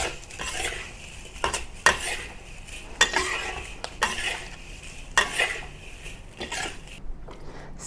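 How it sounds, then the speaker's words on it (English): Spatula scraping and clanking in a wok while taro rice is tossed with dried shrimp, garlic, mushroom, sausage and taro, irregular metallic knocks over a soft background hiss, close and moderately quiet, no voices. "Return all the ingredients, the dry shrimps, garlic, mushroom, sausage, taros, everything back to the wok and mix with the rice thoroughly."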